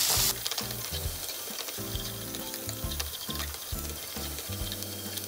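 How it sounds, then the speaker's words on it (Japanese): Thinly sliced onion softens in a frying pan for shrimp macaroni gratin, a soft continuous sizzle running under steady background music. "そしてしんなりするまで炒めます"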